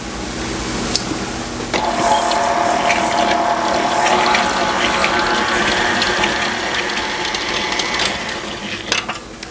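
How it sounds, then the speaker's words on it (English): Butter, brown sugar and vanilla being creamed together in a mixing bowl, heard as a steady mechanical whir with ratcheting, gear-like clicks running loud and continuous for most of the span, with no talk. "I will cream my butter and my brown sugar and my vanilla all together."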